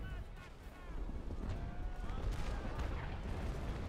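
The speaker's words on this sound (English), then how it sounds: "About to take 3 broadsides." Cannon broadsides from warships in the naval battle game Naval Action boom and rumble at a distance in a low, continuous barrage, faint under a player's talk.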